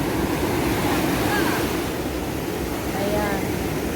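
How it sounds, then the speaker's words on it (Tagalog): Strong ocean waves rolling onto Kata Beach in Phuket, Thailand, a constant loud wash of surf mixed with wind rumble against the microphone, with faint voices in the background. "ang lakas ng alon"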